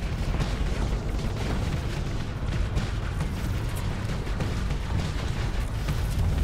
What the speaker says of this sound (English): They also explode when they hit them.